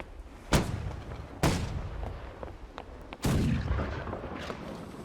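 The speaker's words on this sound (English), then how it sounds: "actually push the cannon into place before firing it" Cannon fire in the video game Holdfast: Nations At War: three loud, booming blasts, each with a rumbling tail that fades away. The second shot comes about a second after the first, and the third follows after a longer pause.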